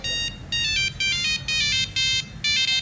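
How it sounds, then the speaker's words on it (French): Old mobile phone ringtone playing as repeated bursts of bright electronic tones, about six evenly spaced rings, loud over a low background rumble, with no talking. "Ça, ce sont des sonneries de nostalgie."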